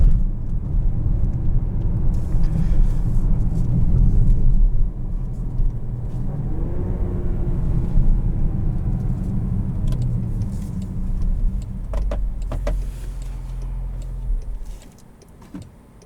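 A 2021 Land Rover Range Rover Velar S P340 SUV on the road, heard from inside the cabin as a steady low engine and road rumble that eases slightly toward the end, with no voices.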